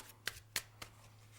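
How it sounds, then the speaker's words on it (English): A deck of playing cards is shuffled by hand during a card-technique lesson, giving three or four soft, crisp riffling clicks against a low hum, with no talking. "The deck is shuffled"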